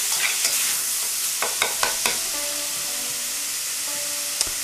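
Ma po tofu being stirred in a pan after red hot chili oil is added, with a steady high sizzle under several distinct scraping and clicking stirs of the spatula.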